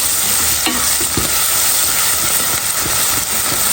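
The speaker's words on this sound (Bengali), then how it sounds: "আর এখানে হচ্ছে পেঁয়াজটা ভেজে নিতেছি।" Onions fry in a pan for a hilsa fish curry, giving a loud, steady close-up sizzle and hiss with a few soft stirring scrapes and no talk.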